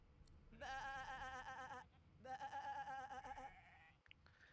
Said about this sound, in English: there was an actual sheep sound in the background while a human was making a sheep sound